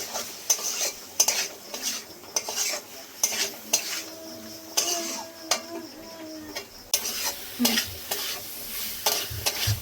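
Kabuli chickpeas fry with spices in a pan for chole. A low sizzle sits beneath frequent metallic spoon scrapes and clinks on the pan, close and irregular, with no voices.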